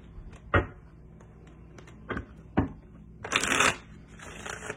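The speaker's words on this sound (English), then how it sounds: "I'm going to shuffle both decks" Two decks of cards riffle-shuffled in several quick bursts, each a short crisp flutter, followed by a longer bridging cascade of cards, close and fairly loud.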